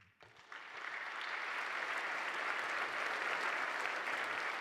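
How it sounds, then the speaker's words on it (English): Congregation applause during a Christian emphasis week service, clapping building quickly from a quiet start into a steady, full roar that holds to the end. "Let's clap for that"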